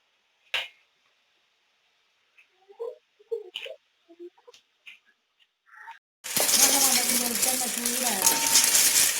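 Jackfruit pieces drop into hot oil after a few quiet clinks and taps, then the oil erupts into a loud, continuous bubbling sizzle that holds steady to the end.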